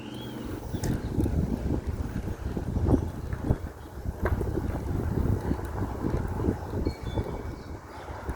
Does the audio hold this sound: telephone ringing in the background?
no